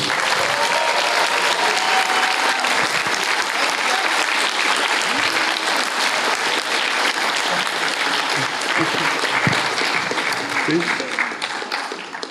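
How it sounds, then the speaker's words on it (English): A large convention crowd applauds loudly and steadily to welcome actress Hayley Atwell onto a fan panel stage, with a few cheers rising from the dense, sustained clapping. "Please, put your hands together. Hayley Atwell, everyone."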